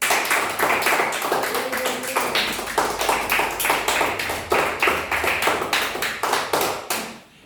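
Spectators at the Fête St Jean applaud a performer with brisk, rhythmic clapping that pulses steadily for several seconds, loud and close, then fades at the end.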